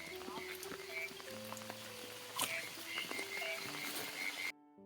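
Frogs croak in falling rain beside a flooded field channel, scattered short calls over steady patter of raindrops, fairly near and moderately loud.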